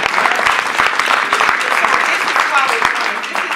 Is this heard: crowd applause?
yes